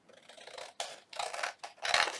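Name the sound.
scissors trimming paper around an envelope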